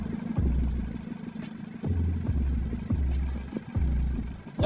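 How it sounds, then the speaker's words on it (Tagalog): An unevenly running car engine after a vacuum advancer replacement, idling rough and loud with a low rumble that surges and dips in a loping rhythm of about four beats, up close, with no talk. "Karagal yung makina ko."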